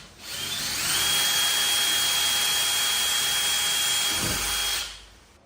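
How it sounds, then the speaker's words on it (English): A 1/8 inch bit drills a hole in a Toyota Tacoma rack, making a steady, close high-pitched whine for about four seconds before it winds down. "we're gonna use a 1/8 inch drill bit"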